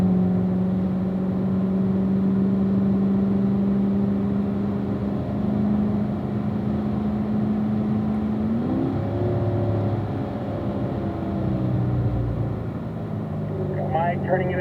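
A Corvette on a race track drives through a corner, its engine droning steadily and rising in pitch as the throttle comes on, heard from inside the car with someone talking over it.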